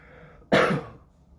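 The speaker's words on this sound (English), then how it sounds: "I had a cough." One sharp, close cough bursts out of a quiet room and fades quickly, with a slight throat-clearing rasp.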